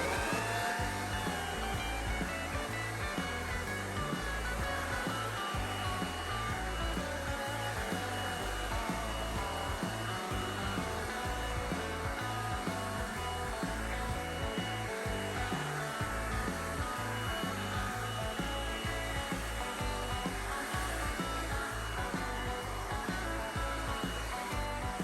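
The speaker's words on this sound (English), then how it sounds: "So I'd say that the blower function works really good, especially with those smaller tips." A Craftsman blower vacuum runs in blower mode with a small tip fitted, giving a steady, loud, continuous rushing whine with a pulsing low motor hum that holds for the whole stretch.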